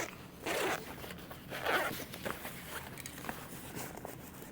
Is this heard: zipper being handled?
yes